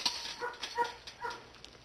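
A police dog in a film barks and yips in short sharp bursts, a few quick calls spread over under two seconds, moderately loud and fairly close with no talk.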